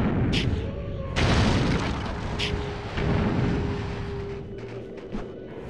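Heavy booming blasts from a cannon turret in a Viking zombie video game, a big impact around one second followed by rumbling bursts and a continuous low drone, loud and close, with faint talk underneath.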